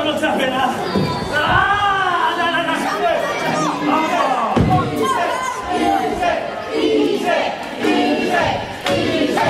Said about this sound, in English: Is here the crowd cheering on Sunset Skip.